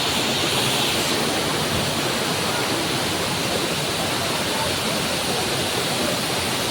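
Water roars in a constant, dense rush at Daranak Falls, close by, steady throughout with no voices.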